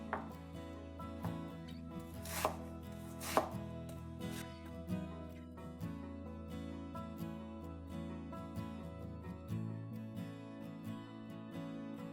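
A knife chops vegetables for chicken vegetable soup on a cutting board in steady, repeated taps, heard under continuous background music.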